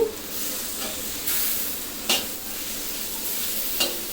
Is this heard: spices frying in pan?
yes